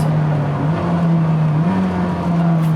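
A Koenigsegg supercar engine rumbles loudly and steadily at high revs, its deep tone holding and rising slightly, heard from inside the car with no talking.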